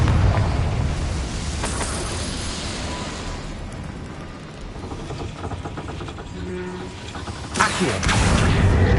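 Confringo blasting spell going off in the Hogwarts Legacy video game, a loud rumbling burst of explosive noise sustained over several seconds, easing off midway, then flaring up again near the end.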